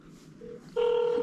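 Phone keypad tones sound while dialing the Google Korea customer center on a Seoul 02 number, a short beep followed by a longer steady dial tone, clear and close with no talk.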